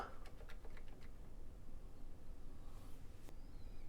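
Typing on a Commodore 64 keyboard being tested after a repair: a quick burst of faint plastic key clicks at the start, then a lone tap near the end over a low steady hum.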